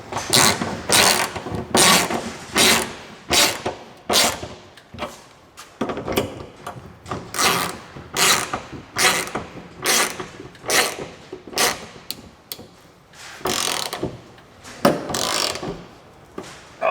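A ratchet wrench tightens the trailer hitch bolts on a 2009 Camry Hybrid during a Draw Tite hitch install, with repeated close clicking strokes in uneven bursts and short pauses between them.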